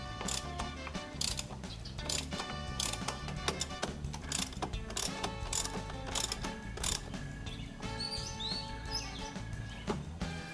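Socket wrench with a 12 mm socket tightening bolts on the rear brake mount of a Honda ADV160 scooter, a rapid run of ratchet clicks in repeated bursts, close and clear, with no talking.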